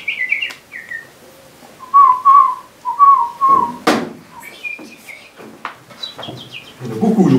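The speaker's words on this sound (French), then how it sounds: "Mais écoute les oiseaux, écoute les oiseaux." Clear whistled bird calls ring out close by, short repeated tonal phrases with pauses, broken by a couple of sharp knocks and rustling.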